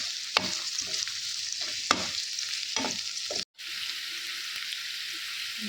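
Ingredients for palak paneer fry in a pan with a steady soft sizzle, broken by a few sharp scrapes of stirring, heard close and moderately quiet with no talking.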